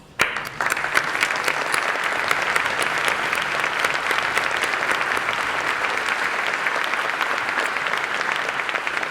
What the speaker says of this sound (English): Would you all please stand for a moment of applause?